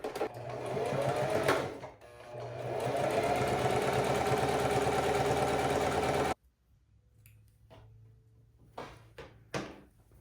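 A sewing machine runs close by, stitching the side seam of a linen pants waistband in a steady, fast whirring hum for about six seconds. The motor pauses briefly once during the run. Afterward, a few faint clicks and handling taps follow in near silence.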